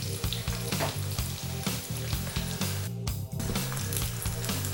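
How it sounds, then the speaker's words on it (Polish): Pork skin cutlets fry in a pan with a steady, close sizzle that runs unbroken through the clip, accompanied by a rhythmic low thumping that sounds like background music. "I smażymy kotleciki ze skóry."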